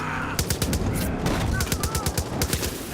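In Far Cry 5, rapid automatic gunfire rattles in quick bursts of closely spaced shots that carry through nearly the whole stretch, over a steady game background.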